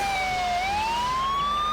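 A fire truck siren in the video game Tonka Rescue Patrol, a steady electronic tone that dips briefly and then rises, sounding continuously over low game engine rumble.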